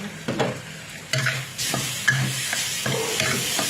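Chili and garlic are stir-fried in a hot pan: a loud, close sizzle broken by quick rhythmic spatula scrapes and strokes, with no voices.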